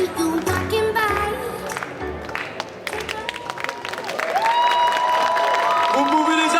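An audience at a cosplay contest claps and cheers loudly and continuously over music, the applause swelling in the second half, with a voice speaking over it.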